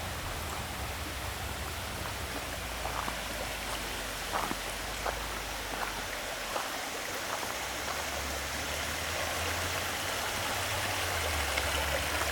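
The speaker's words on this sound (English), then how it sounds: "Got a nice creek." Steady rushing water of a flowing creek in Georgia's Chattahoochee National Forest fills the scene, a constant hiss with low rumbling wind beneath.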